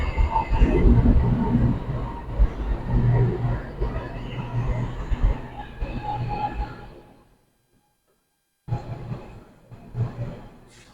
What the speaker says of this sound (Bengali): তো আমার ট্রেন এসে পড়েছে